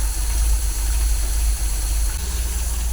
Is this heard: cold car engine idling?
yes